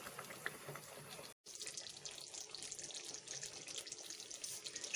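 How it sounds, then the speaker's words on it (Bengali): Water runs steadily into a pan of doi potol, a Bengali curd and pointed gourd curry, a continuous close splashing pour with a brief break partway through. "এরপর আপনি সামান্য জল এতে দিয়ে দেবেন।"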